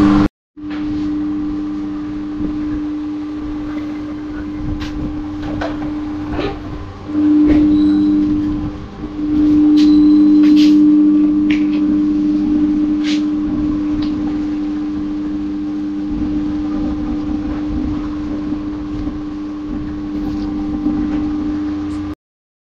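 A Yamaha MT-15 motorcycle engine idles steadily with a deep, throbbing exhaust note, briefly revved louder in the middle, running continuously at close range.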